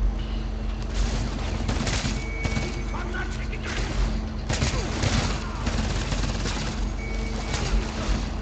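Dense gunfire from the video game Homefront rattles on without a break, with bursts of rapid shots and heavy thuds piling up over a loud, busy battle din.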